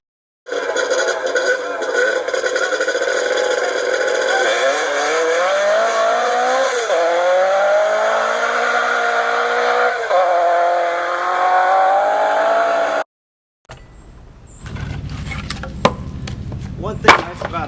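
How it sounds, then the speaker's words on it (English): A chainsaw mounted on a homemade sawmill cuts 16-inch firewood lengths, its engine roaring loud and steady for about twelve seconds with the pitch shifting under load. It then stops abruptly, leaving quieter scattered clatter. "cut the chainsaw right down between the uprights and cut the 16-inch of the firewood"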